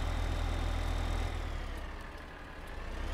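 A tractor engine in Farming Simulator 15 drones steadily at a low idle, a continuous rumble that eases slightly in level partway through with no talk over it.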